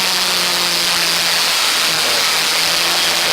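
A historic Formula Ford race car at Donington Park heading toward Redgate, its engine giving a loud, steady, close-up roar with a sustained hum and no break for the whole stretch.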